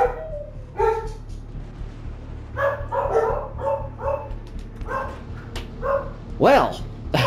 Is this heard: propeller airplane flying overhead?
no